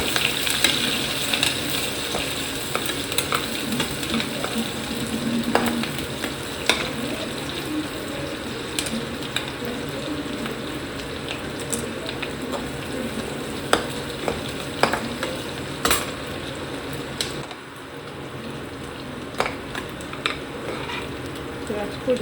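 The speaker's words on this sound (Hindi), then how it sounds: "प्याज को ज़्यादा हम भूनेंगे नहीं, हल्का हल्का सा सौटे कर लेंगे" Onions lightly sautéing in a pan with a steady broadband sizzle, punctuated by occasional stirring clinks and scrapes; the sound is close and continuous, with a brief dip near the end.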